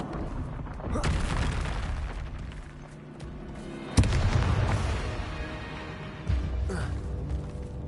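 Confringo fire spell explosions in Hogwarts Legacy combat, several booming blasts with sharp onsets around the middle and end, over a continuous rumbling game soundscape.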